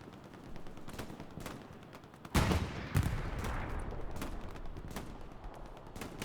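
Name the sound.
Thompson submachine gun firing in Hell Let Loose video game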